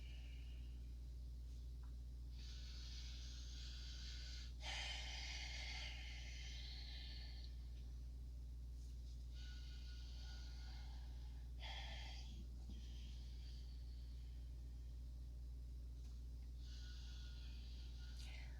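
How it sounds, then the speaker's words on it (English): Slow, deliberate breaths during a yoga flow, long airy inhales and exhales alternating in rounds of a few seconds each, close and steady over a constant low hum. "Several rounds, inhaling and exhaling."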